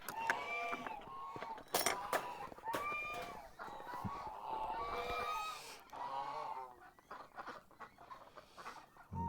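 Ducks and geese gather outdoors in snow after a storm, giving a busy run of quacks, honks and clucking calls, fairly close and irregular, with a person speaking briefly amid the birds.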